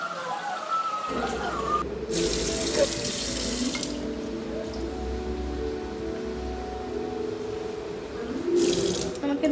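Tap water pours steadily into a sink while a homemade face pack is rinsed off, a continuous close splashing rush with brief changes in flow and someone speaking faintly over it.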